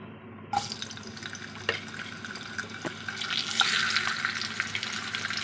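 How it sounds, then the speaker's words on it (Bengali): Fish heads frying in oil in a wok, a crackling sizzle with sharp pops and spits that builds in loudness toward the end, close and without voices. "আর এখন আমি মুড়োগুলোকে ভেজে নেব"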